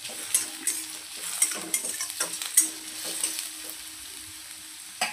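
Garlic and ginger frying in a pan for veg cabbage Manchurian, with a spoon stirring them through hot oil; a light sizzle carries clicking utensil scrapes and taps that come in a brisk, uneven rhythm, close and moderately loud.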